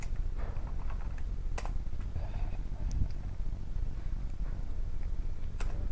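Keys clatter on a computer keyboard while someone sets up a web project in a code editor, a steady run of soft clicks with a few sharper strikes, close and fairly loud over a constant low hum.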